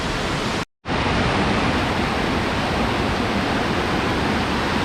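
Rushing water at Marmala Aruvi waterfall forms a steady, dense roar, close and loud, broken only by a brief dropout near the start.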